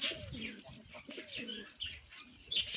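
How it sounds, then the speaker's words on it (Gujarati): A flock of native wild pigeons perched indoors coos in soft, repeated throaty rolls, with a few faint chirps and a brief flutter of wings, all close and fairly quiet. "અંદર બધા કબૂતર બેઠા છે,"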